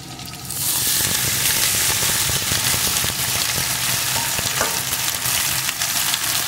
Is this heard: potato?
yes